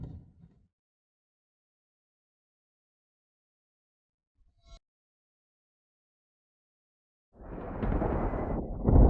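Deep rumbling thunder from a lightning strike rolls in after a long near-silence, loud and sustained for a couple of seconds, preceded by a brief faint crackle.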